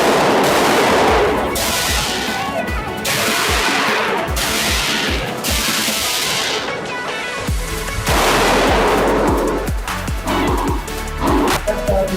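Five pistol shots from a Springfield Hellcat Pro with Federal 115 grain ammunition, sharp loud cracks spaced about a second apart, each trailing a brief echo, with more outdoor shooting noise continuing afterward.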